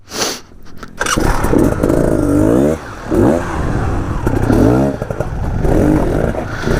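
An enduro dirt bike engine revs loud and close during off-road training, rising and falling in repeated throttle blips after a brief start, with clattering over rough ground.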